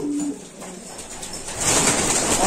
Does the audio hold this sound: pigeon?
yes